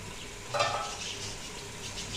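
Moongre, radish pods, being stir-fried in a pan give a soft, steady sizzle with a brief stirring scrape near the start, quiet and close, without any speech.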